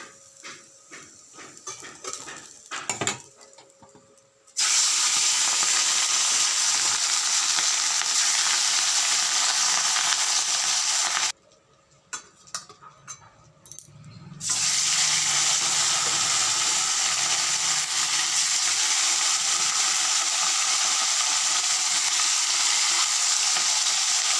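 Fish sizzling as they fry in a pan, a loud steady hiss that runs on and on, broken by two short pauses with faint clinks and handling noises.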